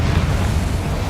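A Confringo fire spell bursts in the Hogwarts Legacy video game, giving a dense, rumbling low explosion that fills the whole short moment at steady loudness with no talk over it.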